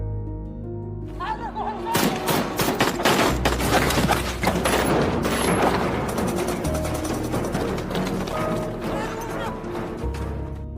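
A tense war film scene carries rapid bursts of gunfire, dense cracking volleys crowding the middle of the passage, with low rumbling and score beneath.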